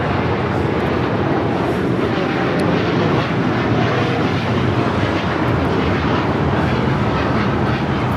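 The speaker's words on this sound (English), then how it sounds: "This is American Airlines Flight 27 taking off to Tokyo Haneda on the 787-9 Dreamliner." An American Airlines Boeing 787-9 Dreamliner takes off, bound for Tokyo Haneda, a loud broadband jet-engine roar that stays dense and sustained for the whole stretch, heard from the ground.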